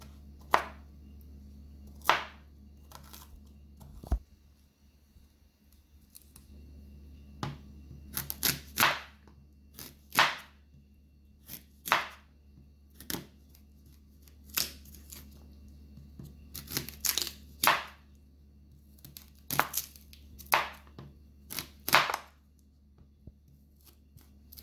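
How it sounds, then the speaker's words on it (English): Guava and June plum flesh being cut off the seeds with a knife, producing a steady run of sharp, close slicing and chopping clicks in irregular bursts over a low constant hum, with no talking. "So now that I have finished cut up my guava and June plum"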